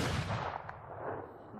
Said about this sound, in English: I've used that gun sound effect before